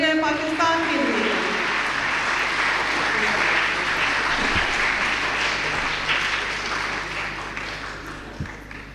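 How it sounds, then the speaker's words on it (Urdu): Loud, full audience applause at a Nazaria-i-Pakistan celebration of Quaid-i-Azam's birthday, sustained dense clapping right after a voice ends, holding steady before gradually fading out near the end. "ایک دفعہ بھرپور تالیاں بجائیے نظریہ پاکستان کے لیے۔"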